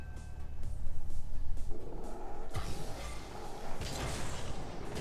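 Rocket League car boost in a 1v1 match: a steady engine-like whoosh and rumble that swells and surges, with a harder thump midway, all game sound without talk.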